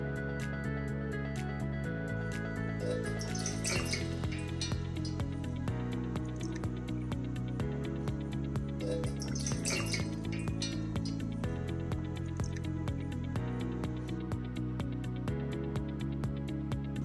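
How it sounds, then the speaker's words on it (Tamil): Water splashes and trickles into a pot in two short pours, about four cups measured in for making murukku, over steady background music. "இதே கப்பாலே 4 கப் அளவுக்கு தண்ணி எடுத்துக்கலாம் அளந்து ஊத்திக்கலாம்"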